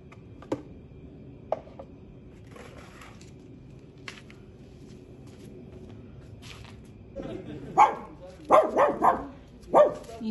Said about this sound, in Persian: اینجا صدای غریبه که میاد لیدی اینطوری میکنه